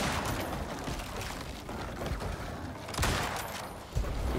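Sustained rapid gunfire in the survival video game Icarus, a dense, continuous crackling barrage with a few heavier hits, fairly faint in the mix.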